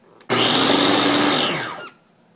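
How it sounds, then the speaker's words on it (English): Freshfoods Cook n Blend food maker blending food on a coarse, chunky setting: a loud, steady motor whir starts abruptly, runs for about a second and a half, then winds down and cuts off. "So I am going to choose the less blended, less smooth option and turn it to the right."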